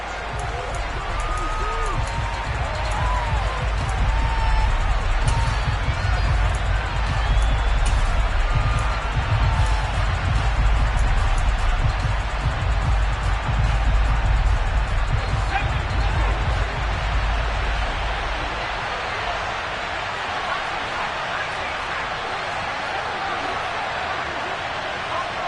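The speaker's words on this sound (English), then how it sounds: "Here comes a big one as this crowd gets out making some noise." A stadium crowd roars at an NFL football game, a loud continuous wash of cheering and noise that swells early and stays dense, with a commentator talking over it.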